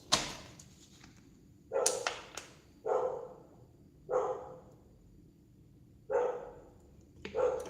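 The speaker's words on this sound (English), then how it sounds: "That dog's literally just started barking." A dog barks several times, single sharp barks spaced a second or two apart, fairly clear against a quiet indoor background with no speech.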